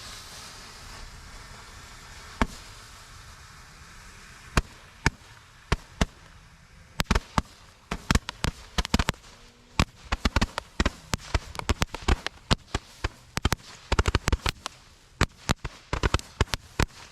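Roman candle fireworks shooting from a holder, a series of sharp pops and bangs, sparse at first and then coming in rapid irregular bursts over steady background hiss.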